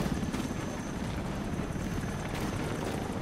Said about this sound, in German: Ein dummer Helikopter.